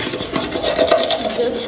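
Sponge scrubbing a surface while cleaning a new house, a rough rhythmic rasping of repeated close strokes over about two seconds.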